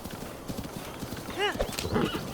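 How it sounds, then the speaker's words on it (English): Clip-clop hooves of a galloping horse in Zelda: Breath of the Wild run steadily under game sounds, with a whinny rising briefly midway; faint talk may sit underneath. "This should just be a straight run with the horse."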